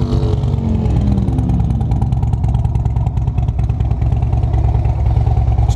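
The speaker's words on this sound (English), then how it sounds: "Let's hear this baby run. V-twin power right there." Idling 2012 Harley-Davidson FLHTCU Electra Glide Ultra Classic V-twin engine with RC Components pipes, close and loud, giving a steady uneven loping rumble with a slight rev early on and no voices.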